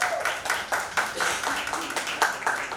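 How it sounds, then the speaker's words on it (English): An audience at a Bollywood unveiling event with actor Sonu Sood bursts into steady, lively clapping, with rhythmic hand claps from many people close by and a faint murmur of voices underneath. "you can cheer"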